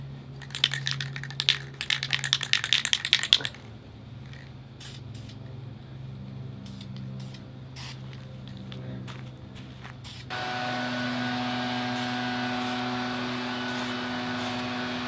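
Short hissing bursts from a spray can put red paint onto a cleaned car taillight lens for an FRS/BRZ/GT86, lasting a few seconds, then give way to a quiet room hum and a steady background drone.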